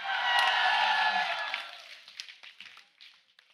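A Mumbai studio audience breaks into loud cheering and clapping, a dense roar for about a second and a half that fades into scattered claps and whoops.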